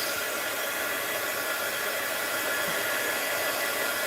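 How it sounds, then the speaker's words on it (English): A heat gun blowing hot air to dry a fabric postcard, a loud, steady broadband whoosh held unbroken throughout, close to the listener, with no talking. "I'm not ready to buy a new heat gun."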